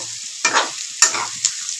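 Chicken stirred and fried in a kadai, with three sharp scraping stir strokes over a steady background sizzle, close and fairly loud, no voices.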